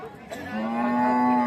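A single Holstein Friesian dairy cow moos nearby, a drawn-out low call rising and holding steady to the end.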